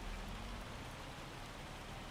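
Steady rain falls in Farming Simulator 25, a soft, even hiss of drops on surfaces that stays faint and continuous with no voices over it.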